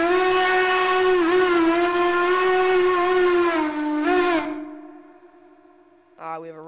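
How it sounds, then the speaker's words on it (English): Hooter-type train whistle from a Railroader game mod sounds one long, loud, steady harmonic blast of about four seconds, dipping in pitch near the end and trailing off, before a brief second tone starts. "Here we have NNW 1228s and a Hooter whistle."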